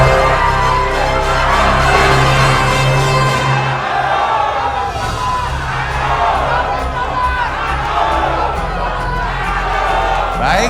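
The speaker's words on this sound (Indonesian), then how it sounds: "Boleh berikan tepuk tangan yang paling meriah." An audience of supporters at the 2024 Lahat regency head and deputy election debate applauds and cheers loudly throughout, a dense, steady wash of clapping and shouting under a low hum.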